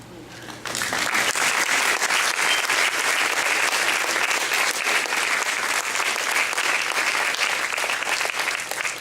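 A church congregation bursts into applause, many hands clapping loudly and steadily after a brief quiet start, sustained and dense throughout.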